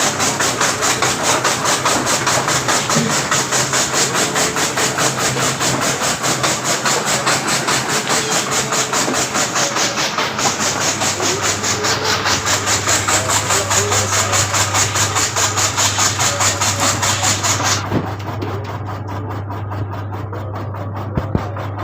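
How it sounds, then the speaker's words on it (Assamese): An engine-driven chaff cutter chopping grass for cattle fodder, a loud, steady mechanical clatter with fast, regular beats over a low engine drone, close by, changing in tone partway through and easing near the end. "ঘাঁহ কটা মেচিন, গৰু ঘাঁহ কটা মেচিন।"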